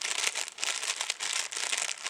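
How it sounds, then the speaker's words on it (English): A bag of crisps held at arm's length is crinkled and rustled continuously, producing a bright, crackling plastic rustle with no pauses and no voices. "Now, I think we all know what a rustling bag of crisps sounds like."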